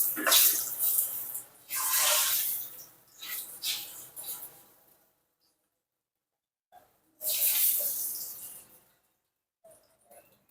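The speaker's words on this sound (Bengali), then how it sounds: "তেল ভালো গরম হয়ে গেছে, আমি লুচিগুলো এক এক করে ভেজে নেব।" Masala luchi dropped one by one into hot oil, loud bursts of bubbling sizzle that swell and fade in separate waves with silent gaps between, close up and without talk.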